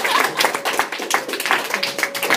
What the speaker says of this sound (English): Round of applause for Lloyd.